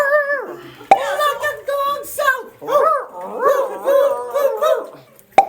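Several people bark and howl like dogs in a lively group imitation, loud voiced yelps and woofs in quick succession with claps, during a gathering in Siquijor.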